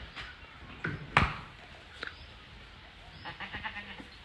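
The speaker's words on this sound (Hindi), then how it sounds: "ये है बदमाश बकरा, ये है बकरों का यानी कि छोटा निज़ाम है बकरों का" A male goat in an evening village livestock setting bleats several times, the loudest and most prominent bleat arriving a little past the first second, with further shorter calls mixed into low rustling background.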